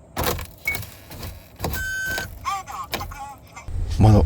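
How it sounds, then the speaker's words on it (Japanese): The power window of a small kei camper van slides open after freezing in heavy snow, a motor whirr heard in short spurts amid clunks and rustling, with a person speaking near the end. "窓開きましたね。"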